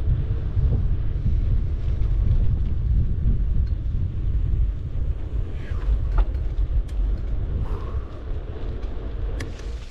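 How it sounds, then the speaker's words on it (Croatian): A cold north wind buffeting the microphone on a winter mountain bike ride, low rumbling gusts that stay loud throughout with faint rattles and clicks over them. "Ono što je gnjavaža je ovaj sjeverni vjetar."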